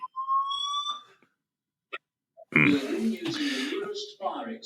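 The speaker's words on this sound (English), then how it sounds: "Just a random fire alarm." A fire alarm beeps with a steady electronic tone near the start, followed by voices talking and grunting over it.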